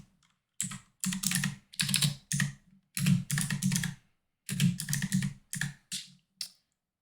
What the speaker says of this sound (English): I'll just type in a name and search.